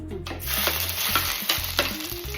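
Ginger sizzling in hot oil in a pan for a karimeen fish curry, a loud steady hiss with several spoon scrapes as it is stirred.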